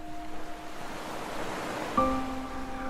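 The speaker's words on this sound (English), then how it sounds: "the first thing that hits me is the sound of the sea" Sea surf washing onto the Solent shore, a steady broadband wash of breaking waves with a faint tonal hum running beneath and a slight swell near the end, heard alone without voices.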